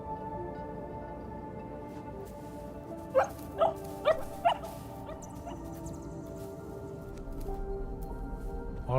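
Several short puppy yips and whimpers from the video game Neva, four quick bursts in a row over a steady soft musical background.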